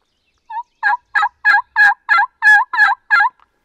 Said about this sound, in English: So to make the call, you're going peep, peep, peep to do the yelp.